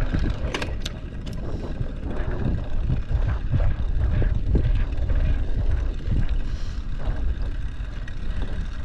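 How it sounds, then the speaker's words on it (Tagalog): Strong wind buffeting the microphone on a rocky mountain bike trail in Saudi Arabia: a loud, continuous low rumble and roar with gusty swells and scattered rattles throughout. "Lakas ng hangin eh."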